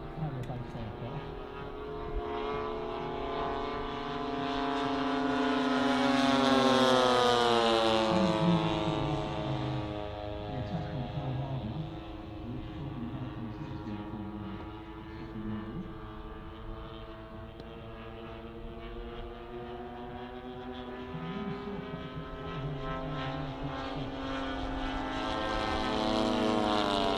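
A propeller-driven model warplane, a Zero or Corsair, flies at a model air show, its engine drone swelling as it passes close and fading as it pulls away. A commentator talks over the sound throughout.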